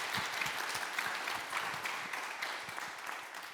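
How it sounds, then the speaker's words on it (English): Audience applause fills a conference hall at the SNF Nostos event, a dense, sustained wash of many hands clapping at a steady level and slowly easing toward the end. "Can we get another round of applause for them?"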